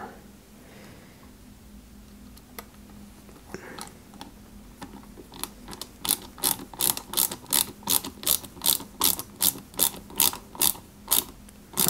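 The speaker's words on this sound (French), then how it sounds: "on vient fixer tout ça ici avec 2 vis AP dans un premier temps" Small AP screws are driven into a 1/8-scale Nissan Skyline GT-R model kit, heard as a fast, regular train of crisp ratcheting clicks that starts after a few quiet seconds and stays close and fairly loud.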